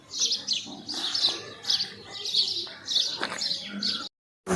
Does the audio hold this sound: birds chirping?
yes